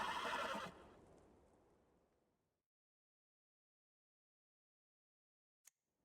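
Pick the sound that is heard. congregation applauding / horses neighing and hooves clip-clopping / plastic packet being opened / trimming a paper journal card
horses neighing and hooves clip-clopping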